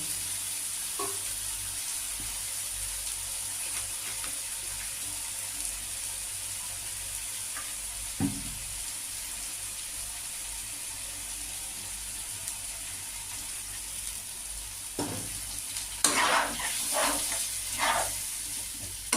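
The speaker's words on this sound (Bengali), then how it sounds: "সব নেড়ে চেড়ে আমি সামান্য এর মধ্যে জল দেবো" Paneer curry spices cooking in a pan, a low steady sizzle with occasional spatula scrapes and stirring knocks that grow busier toward the end.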